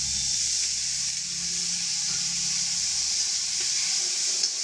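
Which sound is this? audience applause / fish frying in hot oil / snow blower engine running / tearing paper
fish frying in hot oil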